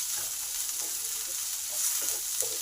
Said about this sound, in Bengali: টমেটোটাকেও ভালো করে এই সবজিগুলোর সাথে মিশিয়ে নিই।